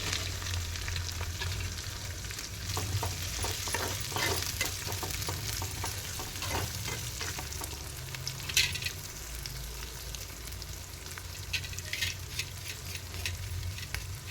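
Onion and roasted semolina fry and get stirred in a pan with a spoon, a steady close sizzle under scraping and clinking strokes that keep going without pause, no voices.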